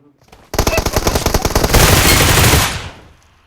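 Rapid automatic gunfire from a video game roars in a dense, loud burst of shots lasting about two and a half seconds before cutting off sharply.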